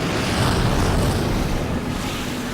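Cartoon ocean being sucked upward by a planet's gravity in a tidal effect, a steady, loud rushing wash of water and wind that swells slightly and then eases, with no voices.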